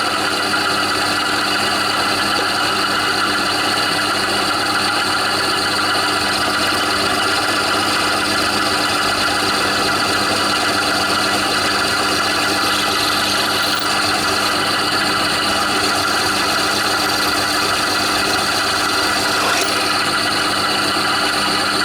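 A lathe running in back gear while line boring a Suzuki GSXR1100 motorcycle frame gives off a loud, steady mechanical hum with a constant whine layered on top, unchanging from start to finish.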